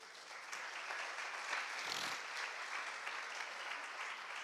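A church congregation claps together in one sustained, steady round of applause that stays faint and distant throughout, with no voices over it.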